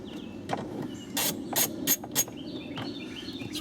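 A ratchet with a socket works a 10 mm bolt on a Toyota Prius Gen II during a hybrid battery replacement, giving several short, close bursts of clicking separated by brief pauses.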